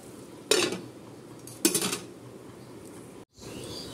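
A lid clinks and settles onto a cooking pot of simmering greens with potato and lentil dumplings, two short metallic clatters close by, then quiet.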